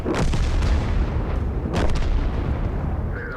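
A tank shell glancing off armour in World of Tanks: a loud booming impact at the start, a second sharp crack with rumbling decay midway, heavy and close, with no voices.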